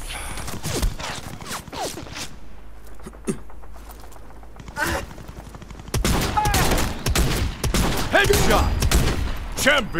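Rapid bursts of automatic gunfire and single shots crackle through a shooter video game, with clustered volleys growing denser and louder toward the end and brief game voice announcements in between.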